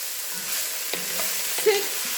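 Peppers cook in a pot for Cajun red beans and rice, with a steady close sizzle and a few soft scraping stirs of a utensil across the bottom.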